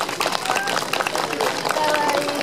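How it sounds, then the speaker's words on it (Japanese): An audience at an outdoor flower-and-greenery festival in Hakodate claps for Riki's monkey performance by a Nikko trained-monkey troupe. Dense, steady applause runs throughout, with voices and calls mixed in. "皆さん、もう一度頑張ったリキ君の大きな拍手をお願いいたします。"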